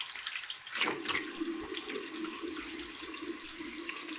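Tap water runs steadily into a sink to rinse alum off after shaving, a soft, continuous splashing stream heard close up with a brief louder gush early on.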